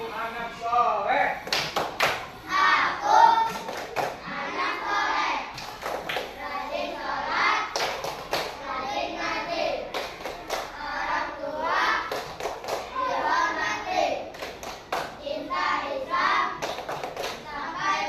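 Children chant and clap the 'tepuk anak soleh' routine in an Islamic religious studies class for third graders, with rhythmic hand claps and taps punctuating lively young voices throughout.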